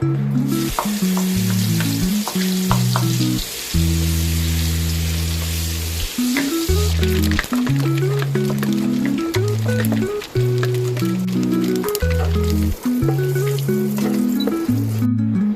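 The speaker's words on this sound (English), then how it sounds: "I'm going to fry the anchovies first" Anchovies frying in a pan, a loud, steady crackling sizzle with spattering pops, heard beneath a prominent background melody of sustained tones, no speech.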